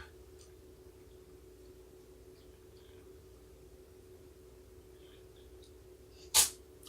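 A single short sneeze bursts out near the end of an otherwise quiet stretch, with only a faint steady hum and a few soft ticks before it.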